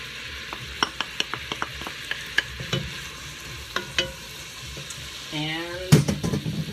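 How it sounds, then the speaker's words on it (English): Onions go into a hot pan and fry, with a soft sizzle under a series of sharp utensil scrapes and taps, followed by a brief louder hiss near the end. "Then in go the onions."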